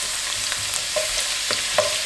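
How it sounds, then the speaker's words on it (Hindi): Chopped garlic sizzles in oil in a kadai, a steady close hiss with a few light taps and scrapes from stirring, and no one speaking. "यहाँ पे 3 टेबलस्पून में ऑयल डाल रही हूँ। ये 1 टेबलस्पून गार्लिक है जो मैंने चॉप किया हुआ है"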